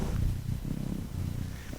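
A cat purring close up, a soft, low, continuous rumble that swells and dips with each breath, heard alone.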